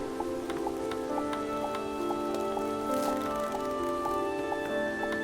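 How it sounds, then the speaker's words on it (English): Steady rain pattering in the video game Starbound, a continuous even hiss with small ticking drops over a looping musical backdrop, no voices. "you see how the rain's coming down here at an angle"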